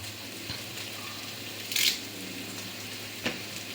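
Washed country curry leaves dropped into hot oil for a chicken curry give a short, bright sizzling burst, with a quieter crackle a moment later over a steady low frying hiss. No one speaks.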